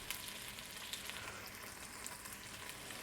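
Garlic sizzles and fries in a hot pan, a steady broadband crackle with small pops scattered through the whole stretch, close and fairly quiet, with no talking.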